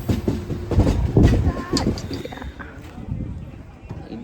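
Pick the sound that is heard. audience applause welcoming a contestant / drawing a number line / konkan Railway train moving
konkan Railway train moving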